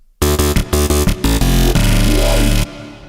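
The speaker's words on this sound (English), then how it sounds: "So without the distortion, it sounds like this." A frozen synth part plays without Trash distortion, a loud, buzzy, harmonically rich tone in short stabbing bursts followed by one long sustained note that cuts off abruptly.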